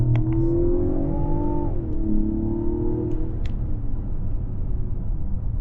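A 2025 Mazda CX-70 Turbo S with a 3.3L turbocharged six-cylinder accelerating at full throttle, heard from inside the cabin as a loud, steady engine drone that climbs in pitch, drops briefly at a gear change, then climbs again.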